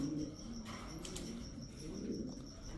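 Racing pigeons in a large loft in Bangladesh give faint, low, soft coos against a quiet background, with a brief flutter or rustle in the middle.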